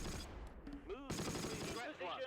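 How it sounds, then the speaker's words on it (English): Gunfire and explosions from an anti-tank gun firing in the Close Combat: The Longest Day war game, loud bursts and crackling blasts mixed with game voices calling out. "Oh, that's an anti-tank gun."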